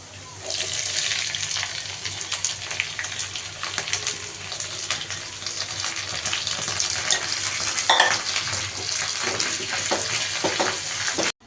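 Onions frying in a pan after curry leaves, for a Bengali-style mushroom curry, giving a steady close sizzle and crackle with occasional stirring scrapes, loud and continuous, with no talking.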